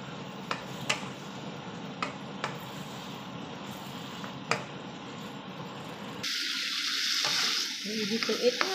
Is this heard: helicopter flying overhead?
no